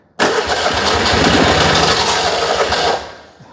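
The air-cooled twin engine of a 2CV-based Falcon S kit car, abandoned for 23 years, cranks and catches abruptly, then runs as a loud, rough, close idle for about three seconds before cutting out and fading.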